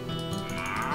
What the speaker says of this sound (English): There's the cows.